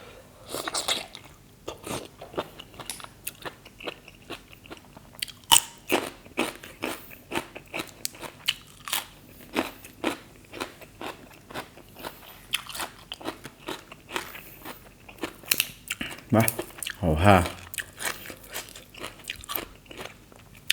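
Close, crisp crunching and chewing of fresh Chinese kale eaten with cockles, a dense run of sharp bites and wet mastication that grows louder near the end, with no talk.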